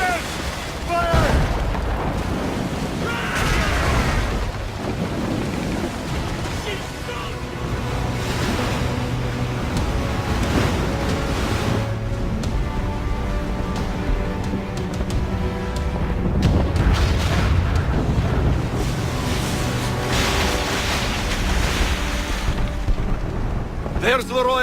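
Ship cannons boom over rough sea in the naval battle game Assassin's Creed Rogue, heavy blasts rolling through continuous surf and wind, with voices shouting at intervals across the long stretch.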